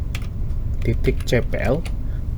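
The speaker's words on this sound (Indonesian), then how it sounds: "kita cari kolom run, kita ketik ncpa.cpl" Fingers typing a short command on a computer keyboard, a brief run of close, crisp key clicks mixed with a person speaking.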